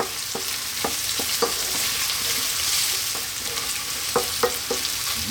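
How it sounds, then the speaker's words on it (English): Garlic frying in olive oil in a pan and being stirred: a steady close sizzle with scattered sharp scrapes and knocks from the spoon, fairly loud, with no talking. "Just want to go now for 2 minutes with that lovely garlic in there."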